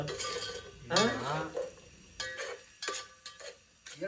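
Hot oil sizzles in bursts as chips are dropped into an oggarane tempering, with stirring scrapes and clinks of a pan, fairly close and moderate in level, with no talking over it.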